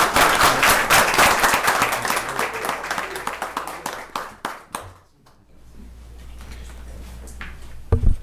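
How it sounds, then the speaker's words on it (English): A round of applause at a county commissioners' court meeting, dense clapping from a room of people that fades out midway, leaving quiet room tone. "One more round of applause."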